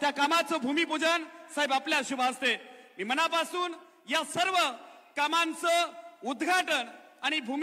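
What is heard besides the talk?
No everyday noises stand out.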